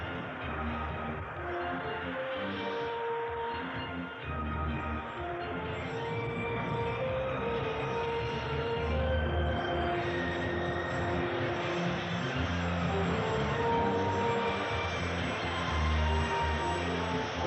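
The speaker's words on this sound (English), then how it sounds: "He will now turn the microjet north and taxi the jet up for a runway 14 departure." A BD-5J home-built microjet taxis on an airport, its steady jet engine whine and rumble continuous and moderately close, holding a constant drone throughout with no talk.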